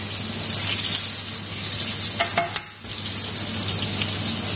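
Teriyaki chicken drumsticks pan-fry in a hot pan with a steady close hiss of sizzling oil, joined by a brief clatter of handling midway.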